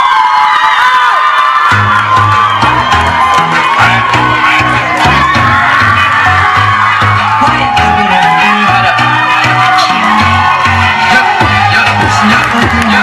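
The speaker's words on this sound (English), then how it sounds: "A round of applause for contestant number 5, Miss Aisha Ba." A crowd at a pageant roars with loud cheering, whoops and shouts for a contestant, sustained and close, over thumping background music.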